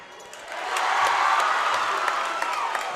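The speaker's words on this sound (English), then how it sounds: "Bryce makes the free throw, the crowd goes wild" A high school boys basketball crowd roars after a free throw, cheering and whooping swelling from a murmur into loud, sustained noise with scattered claps.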